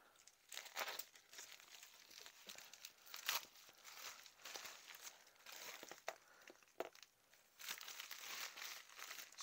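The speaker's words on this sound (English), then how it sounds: "Let me cut this thing open." A package is cut open, giving quiet, irregular crinkling and tearing of packaging material in short bursts.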